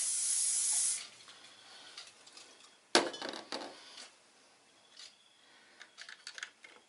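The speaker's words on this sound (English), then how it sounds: "now I'm going to give it a sealing coat with the hairspray" Hairspray from an aerosol can spritzed onto a model as a sealing coat: one steady hiss lasting about a second, then quiet clicks, taps and handling noises close by.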